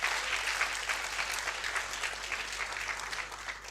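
Audience clapping at a college distance-education provost's awards ceremony, a dense, sustained round of applause from a large crowd that holds steady throughout and begins to thin near the end.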